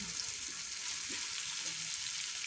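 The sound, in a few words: mango pickle frying in a pan with curry leaves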